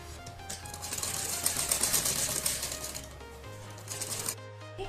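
A sewing machine runs a stitch along a kurti neck seam, a close, continuous rapid clatter with a steady motor hum underneath.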